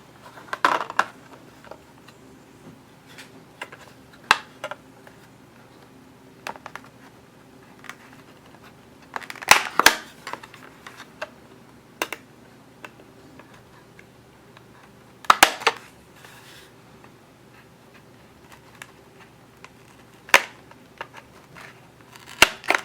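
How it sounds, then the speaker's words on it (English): Small plastic parts from an OO scale Wills Scenic Series relay box model kit are snipped from the sprue, sharp isolated clicks and snips spaced several seconds apart over a quiet room. "I'm just going to take the first box ones and cut those out first"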